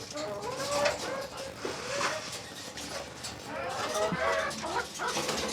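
Hens and 18-day-old chicks cluck and chatter in a busy, continuous farmyard din, several birds calling at once at moderate loudness.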